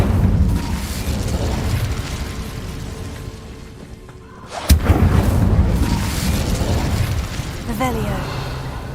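Incendio fire spell cast in the Hogwarts Legacy video game, a sudden sharp burst that flares up loudly amid continuous rumbling battle effects, with a voice calling out spells around it.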